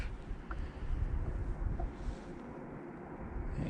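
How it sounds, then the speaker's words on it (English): Wind blowing across a river around a drifting fishing boat in early spring, heard as a steady low rumbling buffet of wind noise on the microphone, fairly loud and constant with no talking. "I got like the perfect wind right now for drifting"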